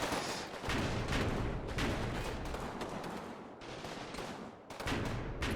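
Dense infantry squad gunfire rattles almost continuously in the Combat Mission Final Blitzkrieg war game, loud overlapping shots and bursts with brief lulls.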